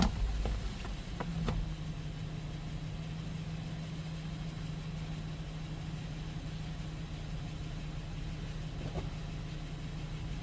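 A 2009 car engine, repaired after running rough, stalling and vibrating, idles smoothly with a steady low hum from nearby, a few faint clicks at the start, no talking.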